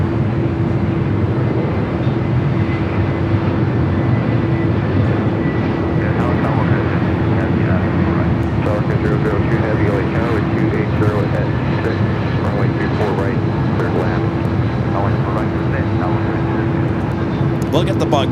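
An Aer Lingus airliner waits to take off from runway 24 left at LAX, its engines giving a continuous, steady hum with a constant tone over airport background noise.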